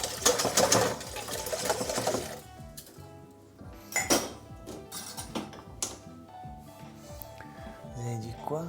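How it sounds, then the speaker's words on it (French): Dishes, pans and cutlery clink and clatter as a dishwasher is loaded after cooking cannelloni and a cake, with dense rattling at first, then scattered knocks and clinks, while a voice talks over it. "On va clairement remplir le lave-vaisselle."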